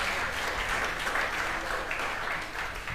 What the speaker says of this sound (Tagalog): the best na papuri ang palakpak para kay Jesus